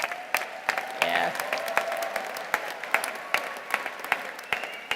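Applause from a commencement ceremony audience, moderate and somewhat distant, with scattered sharp claps over a steady crowd wash and a brief faint voice.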